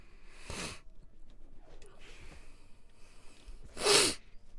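A single loud, close sneeze from a person with a blocked nose, preceded by a softer snort or sniff, with quiet breathing between and no talking.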